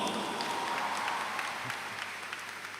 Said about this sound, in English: I would like everyone to give the graduates a big round of applause.